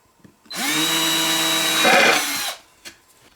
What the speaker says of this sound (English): We'll get them drilled, pre-drilled, and screwed in